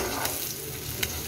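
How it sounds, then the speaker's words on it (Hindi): Beef kebabs fry in a frying pan with a dense, even hiss of hot oil and a couple of brief stirring clicks, heard close and without talk. "मैंने जो ये बाकी के कबाब थे इसको भी मैंने डाल दिया है फ्राई पैन में"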